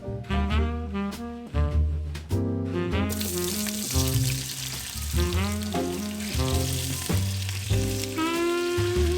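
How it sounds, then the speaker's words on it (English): Cubed potatoes fry in a cast iron pan with a loud, continuous sizzle and crackle, broken by clanking and scraping of a utensil against the pan, close and busy with no talking. "So I'm frying them again in the cast iron pan."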